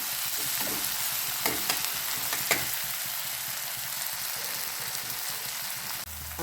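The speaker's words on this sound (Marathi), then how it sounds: "आता कांदा ब्राऊन होत आला आहे." Onion frying in a pan with tomato while being stirred, making a steady, dense sizzle throughout, with a few brief scraping clicks of the spoon against the pan.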